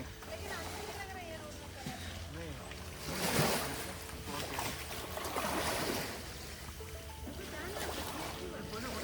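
Water splashing and rushing outdoors in wetlands on Pulau Ubin, steady and fairly close, with people talking over it and a brief louder surge partway through.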